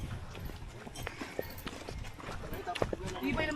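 Horse hooves clopping along a mountain trail, with an uneven series of close knocks running under ongoing conversation.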